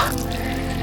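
Mountain stream water flowing steadily on the Chembra Peak trek in Wayanad, a close, continuous splashing and trickling rush with no voices.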